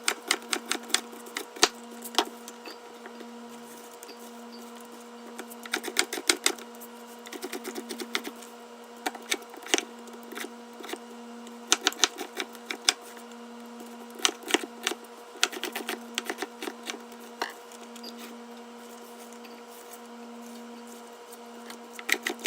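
A knife chops onions on a cutting board while making tomato soup for canning: a quick, irregular run of close, sharp taps over a steady low hum.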